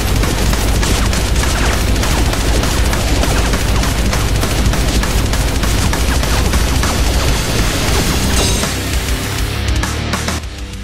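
An M247H machine gun turret in Halo Reach fires sustained bursts of 12.7mm explosive rounds, a loud, dense, rapid stream of heavy shots that continues without pause for nearly the whole stretch before tapering off at the end.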